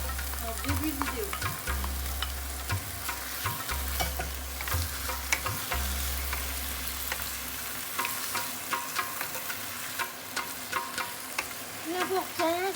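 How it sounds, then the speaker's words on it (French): Sauce goes into Thai basil beef stir-frying in a hot pan, a busy close sizzle with scraping and clattering of the utensil, and a low hum under the first part. "Nous rajoutons ensuite la sauce."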